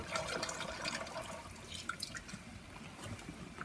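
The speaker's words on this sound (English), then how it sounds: "Turn the water on." Tap water runs to cool a lab condenser during an ethyl ethanoate preparation, a soft, continuous trickle and drip at low level with no speech.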